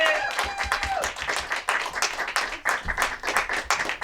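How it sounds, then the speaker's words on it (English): Applause from an audience, a dense patter of clapping hands that runs steadily throughout, with a brief vocal tone near the start. "Go and give a round of applause for Laura Hunt."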